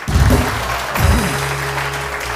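On a morning television show, the studio audience applauds four women guests with a continuous, fairly loud patter of clapping over a low musical drone.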